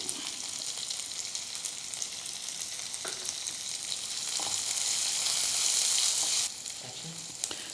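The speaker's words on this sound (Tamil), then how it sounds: "வெங்காயத்தை போட்டு வெங்காயம் வதங்கிறதுக்கு கொஞ்சோண்டு உப்பு" Onions sauté with a pinch of salt in a pan for a spicy moringa leaf poriyal, a close, continuous sizzle with stirring that swells louder for a few seconds, then eases.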